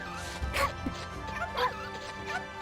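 A dog in the Okami video game gives a few short yips and barks spaced out over a steady game music bed, fairly close and clear.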